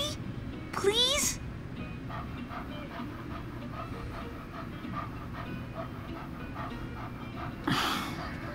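A puppy pants softly and steadily in the video game Life is Strange 2, under a low rattling rumble and quiet talk.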